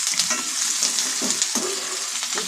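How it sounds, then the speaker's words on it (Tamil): Onions sautéing in a pan until golden for a Tamil onion chutney, a steady close sizzle with a few scraping stirs of a utensil, and no talking. "நல்லா வெங்காயம் நல்லா பொன்னிறமாக வர்ற வரைக்கும் நம்ம வதக்கணும்."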